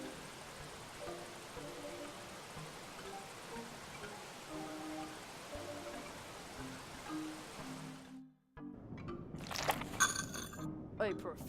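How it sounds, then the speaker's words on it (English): A brook in The Night of the Rabbit flows with a steady, soft rushing babble under faint game tones, briefly cutting out before other noises take over. "the brook is getting pretty dangerous here"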